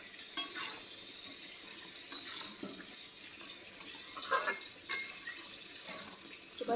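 Meat curry with capsicum being stirred in a pan, the meat having released its water: steady wet sizzling with scattered scraping and clinking spoon strokes, fairly close, no voices.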